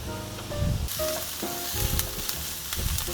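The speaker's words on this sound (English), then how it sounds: "So you see the onions are becoming more translucent, and that's the consistency we want" Onions sautéing in olive oil in a skillet, a steady close sizzle with occasional louder crackles and stirring scrapes.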